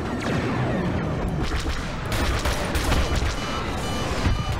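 Blaster fire and explosions roar through a Star Wars Battlefront II battle, a dense, continuous barrage of shots and crashes with sharper bursts scattered throughout.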